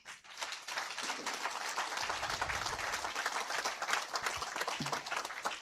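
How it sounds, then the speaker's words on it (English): An audience at a university gathering applauds the Chancellor, Prof. Kivutha Kibwana, with a brief round of steady clapping from a modest crowd, heard at a moderate distance and fading near the end. "we can have maybe just a moment of applause for the Chancellor"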